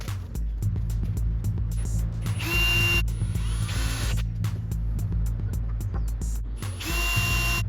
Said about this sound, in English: from the bottom I'm going to screw it onto this piece of wood right here